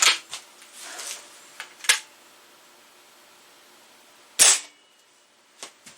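An air rifle fires a JSB Predator pellet over a chronograph: sharp, close cracks rise out of quiet, one strong report near the middle and several fainter clicks and snaps around it.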